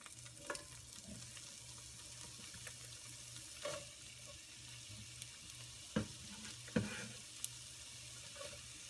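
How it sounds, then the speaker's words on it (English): Onions frying in a tablespoon of melted butter in a pan, giving a steady soft sizzle with a few sharp clacks of a utensil against the pan, close and fairly quiet, with no talking. "So I've melted the tablespoon of butter, and I'm going to add the onions."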